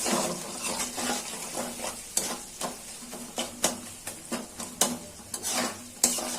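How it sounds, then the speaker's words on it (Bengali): A fried egg is broken up and stirred in a frying pan during a homemade pasta recipe, with rhythmic scraping strokes of a spatula repeating over a continuous close sizzle. "ডিমটা ভাজা হয়ে গেছে, এখন ডিমটা ভেঙে নিচ্ছি।"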